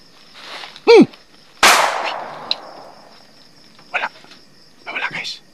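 Sharp gun or firecracker-like bangs crack outdoors at night, one loud report then a second with a long ringing decay, followed by fainter knocks and rustles amid insect hum.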